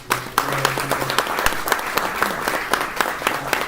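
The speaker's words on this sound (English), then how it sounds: "So let's have a round of applause for Denny." An audience applauds Denny after a horse racing story, sustained clapping filling the room at close range throughout, with a few voices calling out beneath it.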